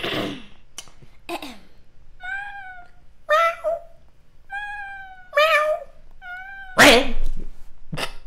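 A person imitates a cat, giving several drawn-out, pitched meows separated by short pauses, with a few sharper vocal bursts in between.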